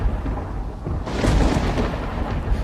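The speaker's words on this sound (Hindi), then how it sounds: "घने बादल गरज रहे थे।" A deep, rumbling roll of thunder swells after a quieter start and keeps growling steadily, broad and heavy, with no voices.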